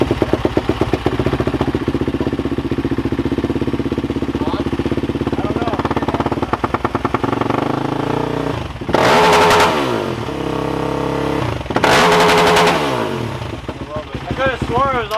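A motorcycle engine idles loudly up close, then is blipped in two sharp revs that rise and fall, with people talking and cheering around it.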